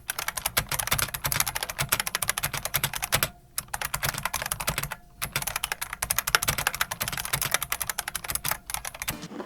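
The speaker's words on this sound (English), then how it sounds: "producing some sort of a typing sound test using a mechanical keyboard" Rapid, continuous clacking of keys on a mechanical keyboard, close and crisp, with two brief pauses in an otherwise steady typing rhythm.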